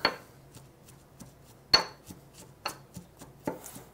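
Garlic being worked with a pinch of salt and fresh ground pepper into a paste, heard as a series of sharp, irregular knocks and scrapes of hard utensils, a few louder hits among quieter taps, with no talking.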